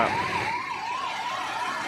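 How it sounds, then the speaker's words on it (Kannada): An ambulance siren wails steadily nearby in a stalled traffic jam, its rising and falling tone repeating in an even rhythm over low road noise. "ಈ ಕಡೆ ಆಂಬುಲೆನ್ಸ್ ಬೇರೆ ಬಂದು ನಿಂತದೆ ಮಧ್ಯದಲ್ಲಿ"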